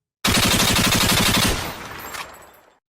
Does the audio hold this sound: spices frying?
no